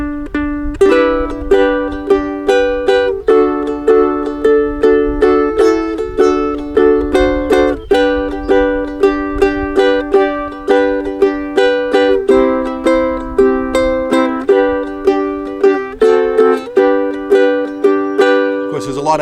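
Steady rhythmic strumming of guitar chords, clear and close, with a bright, ringing tone and repeated down-up strokes throughout.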